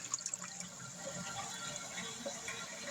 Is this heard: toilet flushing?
yes